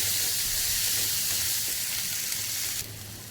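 Coarse green masala paste sautés in hot oil with a loud, close, continuous sizzling hiss that drops slightly in level just before the end.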